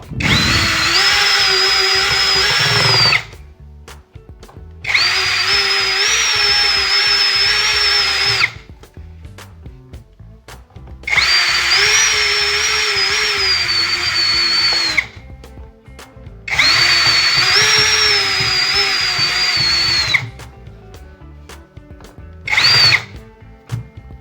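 A power drill driving in bolts during assembly of an MP3 player, four long whining bursts of several seconds each and a short final one, separated by pauses, loud and close, no talking.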